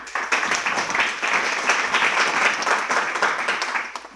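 A crowd applauds to welcome a speaker. The clapping is dense and steady, moderately close, and keeps a sustained rhythm for several seconds without stopping.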